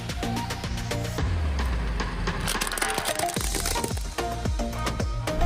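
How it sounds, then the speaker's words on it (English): A car wheel rolls over a large milk packet, giving a loud, drawn-out crunching and crackling with sharp cracks and a low rumble from the tyre throughout. "I left a big milk packet under the wheel of the car."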